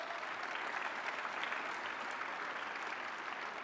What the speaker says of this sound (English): Give a round of applause if it affected you